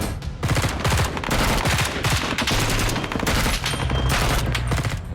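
Dense gunfire during a firefight in Iraq: rapid overlapping shots and bursts, loud and close, form an almost continuous fusillade with occasional short gaps through the whole stretch.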